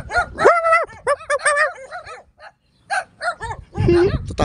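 Dogs bark repeatedly and close by on a street, some barks high and yelping, in a dense run that breaks briefly and then resumes; a person talks near the barking.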